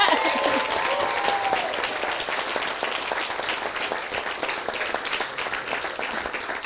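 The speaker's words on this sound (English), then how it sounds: "you can now give them a round of applause" Sustained applause from guests at an event after the speeches, a dense, even wash of clapping with a few voices mixed in, loud and continuous.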